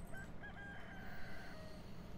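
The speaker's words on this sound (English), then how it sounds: "look at all those chickens" Chickens in the video game Dragon Farm give a faint rooster crow and clucks, distant and quiet under a steady background hum.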